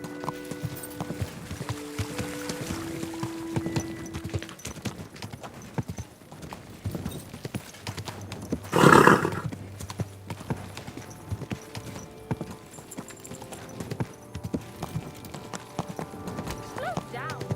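Steady clip-clop of horse hooves in Kingdom Come: Deliverance II with a brief whinny midway, over faint background voices and ambient noise.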